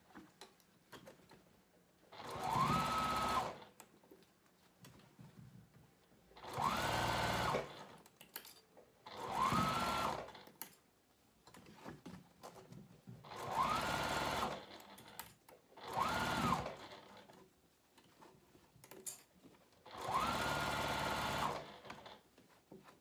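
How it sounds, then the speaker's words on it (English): A sewing machine stitches a fabric foldover pouch in six separate bursts of fast, steady whirring, each lasting a second or two, with quiet pauses between them. "so I'll just keep moving the pouch and stitching"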